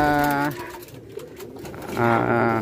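Racing pigeons coo in a loft in Nueva Vizcaya, soft repeated calls close by with a person talking over them throughout.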